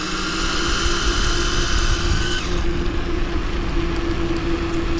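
An electric mountain bike, a Turner DHR converted with a CYC X1 Pro Gen2 mid-drive motor, whines steadily at full throttle during a top speed run, with wind and tire roar up close and a slight pitch shift midway.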